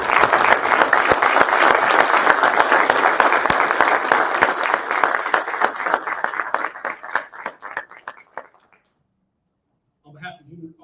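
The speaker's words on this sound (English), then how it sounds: "All ATF employees, please rise and give applause to our new ATF members." An audience of ATF employees at a graduation ceremony for new ATF members breaks into sustained, dense applause that thins into scattered claps and fades out, followed by a brief murmur.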